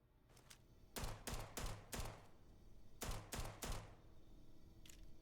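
A Halo 5 Magnum, a .45 caliber pistol in a modded Starfield game, fires six sharp, loud shots in two spaced groups of three, each with a short echoing tail over a low ambient hum.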